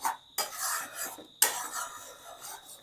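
Chana dal being stirred continuously in a pan for sandesh, a close scraping and rasping of a spoon against the pan in steady repeated strokes, with no talk.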